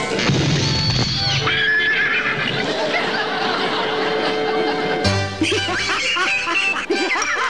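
A horse neighs loudly in a long, wavering whinny over busy background sound, then a second shorter whinny follows near the end.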